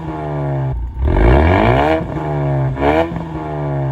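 2021 Ford Mustang EcoBoost with an active valved exhaust, revved hard in loud, close blips that rise and fall in pitch, two strong surges with a throaty, raspy tone and no talking.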